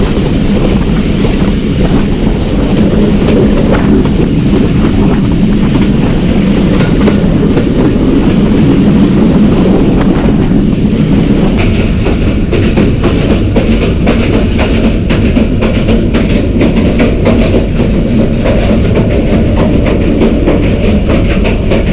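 The Mehr Express, an AC standard passenger train in Pakistan, rolls steadily along the rails with a loud, continuous rumble and rhythmic clickety-clack, wind buffeting the microphone throughout, heard close from on board.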